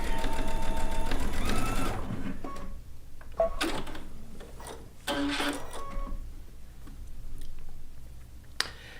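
Sewing machine stitching a quarter-inch seam on a quilt, a fast steady mechanical whir that runs loud at first, pauses, then resumes in shorter bursts with clicks between, close up and with no talking.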